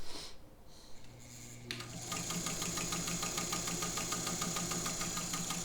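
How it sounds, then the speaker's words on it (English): A Singer 201K vintage sewing machine sews with a quiet mechanical whir and steady, rapid rhythmic ticking, starting after a soft clunk and running evenly, close by. "It's a very quiet machine, and I want you to see how she sews."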